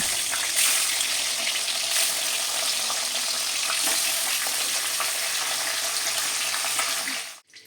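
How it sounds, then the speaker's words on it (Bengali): Magur catfish pieces fry in hot oil with a dense, steady, loud sizzle that hisses continuously and then cuts off abruptly at the end; no voices. "এবার বাকি মাছগুলো ওই তেলে একই রকমভাবে আমি ভেজে নেব"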